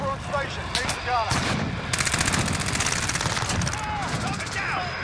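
Heavy gunfire in Call of Duty: Modern Warfare multiplayer, with rapid machine-gun bursts and loud shots filling the scene and a dense stretch of automatic fire in the middle, while voices call out over the fighting.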